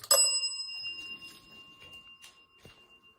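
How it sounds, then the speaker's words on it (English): A small bell rings once with a bright sustained tone that slowly fades, followed by soft shuffling and a faint knock in a quiet, empty-sounding room. "Can you ring that bell, please?"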